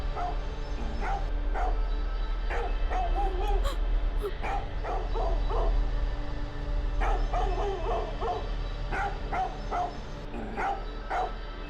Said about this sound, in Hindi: आज ये टेसी बहुत भौंक रहा है